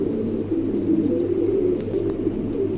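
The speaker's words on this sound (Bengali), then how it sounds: "চমৎকার এক জোড়া কবুতর" A pair of large fancy pigeons for sale in Bangladesh, cooing in a low, continuous murmur close by, with no talking over it.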